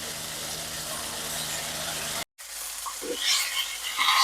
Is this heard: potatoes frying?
yes